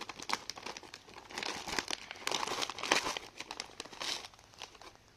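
Plastic packaging crinkles and rustles as a box holding a budget Android car head unit and 360 camera for a 2024 Toyota Wigo is opened, quiet, close, irregular bursts with no speech.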